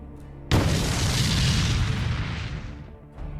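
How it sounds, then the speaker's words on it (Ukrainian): Heavy explosions from FPV drone strikes on tanks in a battlefield setting, a sudden loud boom with a long rolling roar that fades, then another blast starting at the end. "Вибухи лунали один за одним."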